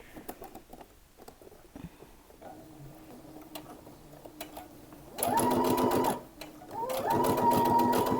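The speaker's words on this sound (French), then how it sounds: "il faut faire une surpiqûre qui fait tout le tour et là aussi à l'intérieur" A sewing machine topstitches around the edge and inside of a removable collar, running in two close, steady bursts of about a second and a second and a half after a quiet stretch, with no talking.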